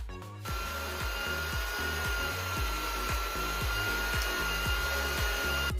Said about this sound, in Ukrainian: Масло розтираємо з цукром. Додаємо ще дрібку солі і все збиваємо міксером.